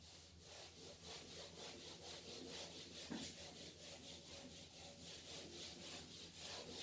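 Writing being rubbed off a board, a steady rhythmic scrubbing with regular back-and-forth strokes running the whole time, close and continuous, with no talking.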